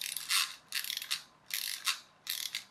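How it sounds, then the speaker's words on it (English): The clockwork motor of a wind-up toy crab turns its gears, giving four close, rapid whirring ratchet bursts in an even rhythm with short gaps between them. "So the clockwork motor turns an axle there that's got a cam on it."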